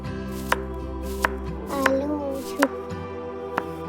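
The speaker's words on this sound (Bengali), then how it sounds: "গাজর কাটার কটকট শব্দ উঠল।" Knife chopping carrots on a board in a home kitchen on a snowy day, several crisp separate cuts spaced about a second apart, close and clear over a low background hum.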